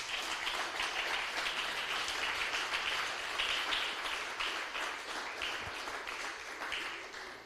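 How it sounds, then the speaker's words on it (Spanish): A church congregation claps and applauds together, a steady dense patter of many hands that holds for several seconds at moderate volume, slightly fading toward the end. "Dale un aplauso fuerte al Señor"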